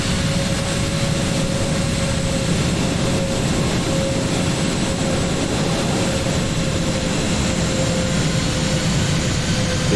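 Airbus A320 jet engines in a flight simulator game hold a steady, loud droning hum with a sustained whine over low rumble, unbroken for the whole stretch and with no talking.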